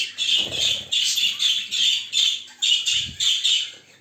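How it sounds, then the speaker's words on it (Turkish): Birds near their nests squawk loudly and repeatedly, about eight close, harsh calls in a steady rhythm with only short gaps, and a couple of faint low thumps underneath. "Evet kuşlar birazcık fazla bağırdılar."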